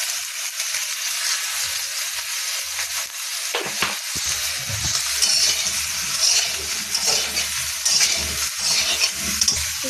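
Mango pieces fry in hot mustard oil with panch phoron, giving a steady close sizzle broken by scraping stirs and light clinks, with no talking.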